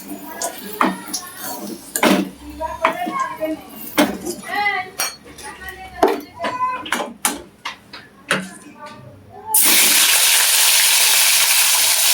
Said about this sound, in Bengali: তারপর একটা একটা করে সবজি ভালো করে ভেজে নেবো